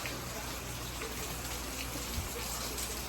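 Heavy tropical-storm rain hisses without pause, a thick, even wash of falling water close by that holds steady throughout.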